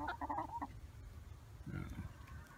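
A homestead rooster gives a short burst of clucking calls, close and fairly clear, followed by a lower throaty sound amid faint farmyard background noise.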